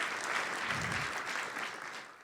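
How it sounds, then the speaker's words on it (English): An audience applauds at a corporate annual event in Berlin, a dense, steady patter of many clapping hands for about two seconds that fades slightly at the end. "A round of applause to him."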